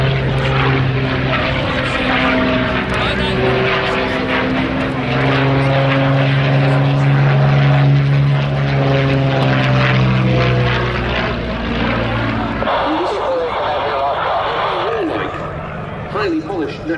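A Curtiss P-40C Warhawk's piston engine drones loud and close at Duxford's Battle of Britain Airshow, its propeller pitch shifting as it passes. A commentator talks over it throughout.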